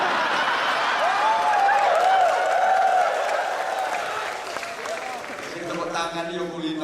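A crowd at an Islamic religious lecture in South Korea claps steadily in broad, dense applause for several seconds, with a faint whistle-like tone weaving through. The clapping thins slightly near the end as other crowd noise takes over.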